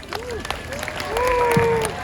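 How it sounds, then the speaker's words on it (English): A zoo audience at a sea lion show claps and cheers in a moderate wash of applause and crowd noise, with whistle-like tones and voices mixed in. "So give her a big round of applause."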